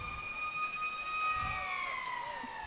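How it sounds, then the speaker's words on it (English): Stadium sirens wail at a high school football game after a touchdown, several steady tones sliding slowly downward and heard loud and continuous over the crowd. "you see the Tornado Alley sirens and the signs going off for the touchdown"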